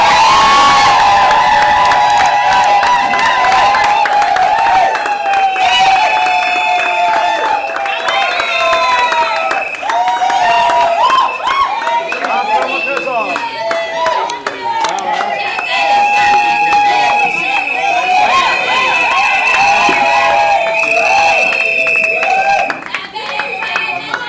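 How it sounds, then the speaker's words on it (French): Crowd at a civil wedding cheering, whooping and applauding for Trésor, loud and continuous throughout, with voices shouting over the clapping. "acclamons Trésor"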